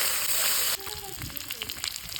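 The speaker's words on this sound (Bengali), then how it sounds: "এবার আমি মাছগুলোকে ভেজে নেব" Shol fish pieces frying in hot oil in a village-style Bengali kitchen, a steady broad sizzle that is loud at first, then settles into a lower crackle with small pops.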